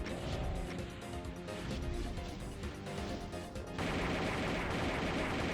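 Rockets strike in the Zeppelin Armada video game, a dense, continuous barrage of loud impacts and crashing bursts that grows heavier toward the end, with no talk over it.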